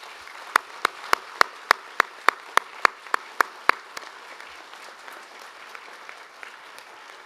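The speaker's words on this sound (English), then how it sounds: "I again invite you all to acknowledge our graduates with a round of applause" A dozen or so sharp, evenly spaced claps ring out close by at a university graduation ceremony, then fade into quiet room tone; no voices.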